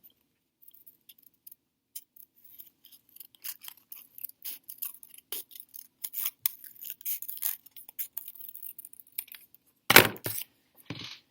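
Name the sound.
cutting out a paper leaf template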